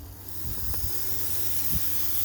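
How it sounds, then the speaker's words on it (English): Buttered buns sizzle on a preheated Lodge cast iron griddle over a Martin stove, giving a steady, loud, close hiss with a low hum beneath and a few soft pops. "Ooh, nice sizzle."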